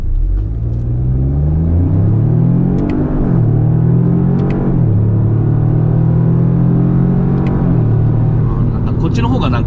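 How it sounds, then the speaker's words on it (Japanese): A Lexus LBX Morizo RR in circuit mode accelerating hard on a track, its engine note climbing through several gears with short dips at each shift. The sound is loud and close, and a voice talks over it. "じゃあ次はサーキットモードオンで、ギア非連動で、加速していきます"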